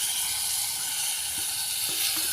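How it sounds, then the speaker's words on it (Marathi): Brinjal bharit mixture sautés on a wood-fired chulha, giving a steady, loud sizzling hiss throughout with only faint scrapes beneath it. "वांग्याचं भरीत चांगलं परतून घेऊया आणि याला फक्त दोन मिनिट ह्या चुलीवर"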